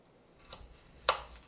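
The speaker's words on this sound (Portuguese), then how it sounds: "eu vou cortar ela um pouquinho menor" A knife cuts vegetables for a cooked vegetable salad with two or three soft, quick chops on a cutting board, fairly faint in a quiet kitchen.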